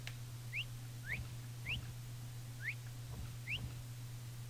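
Short rising whistles call a horse in Assassin's Creed Origins, about five quick chirps spaced roughly a second apart, faint and thin over a low steady hum with soft thumps.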